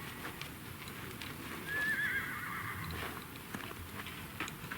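A horse being lunged neighs once in a clear rising whinny near the middle, amid soft hoof clip-clops and light scuffing on the ground, fairly faint and without talk.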